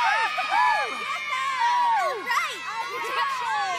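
A crowd of cheer teammates shouts, whoops and cheers loudly together in a continuous energetic burst, voices overlapping throughout.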